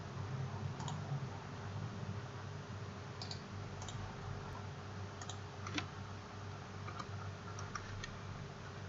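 Sparse, light computer mouse clicks at a desk during steel shed modelling work in Tekla Structures, a few scattered single and double clicks over a steady low hum of room and computer noise, with no talking.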